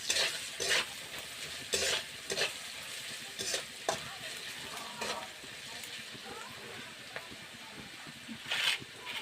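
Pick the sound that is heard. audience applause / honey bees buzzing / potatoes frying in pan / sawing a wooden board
potatoes frying in pan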